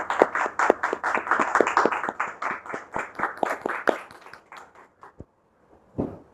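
Audience applause welcoming a guest onto a talk show, with a rapid series of distinct close claps from a small group that thins out and stops, followed by a final isolated clap after a brief silence.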